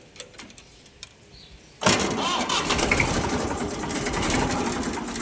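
A 1995 Massey 1035 standard-model farm tractor engine cranks and catches after a near-quiet start, then settles into a loud, steady diesel run close by, with no talking.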